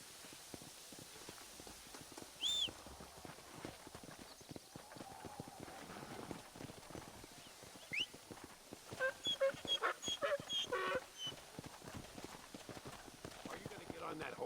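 Horse hooves clip-clop in the Red Dead Redemption video game, with uneven trotting beats through the whole passage. A brief whinny is heard, and the hoofbeats grow busier and louder toward the end.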